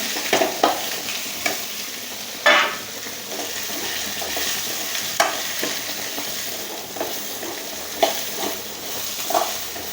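Small shallots and grated coconut sauté in a pan for a beef fry, a steady close sizzle with repeated scraping stirs and occasional clinks of the spoon.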